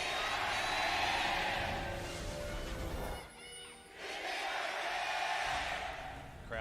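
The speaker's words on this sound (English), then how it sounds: "Crowd surrounding us here at the Samsung World Gymnasium." Large esports arena crowd at Samsung World Gymnasium during the LCK Summer 2018 finals, roaring and cheering loudly and continuously, briefly dipping for about half a second before surging back to full volume.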